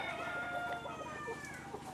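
Many caged layer hens on a poultry farm cluck together in a dense, continuous chorus, with a drawn-out crowing call rising over a steady low hum.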